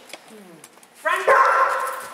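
A dog lets out a short bark and a whining yip, close and fairly loud, following a few quiet spoken sounds during a dog training session.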